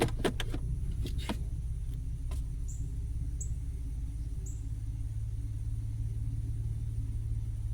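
A Toyota FJ Cruiser engine idling in park, a steady low rumble throughout with a few brief clicks and taps near the start.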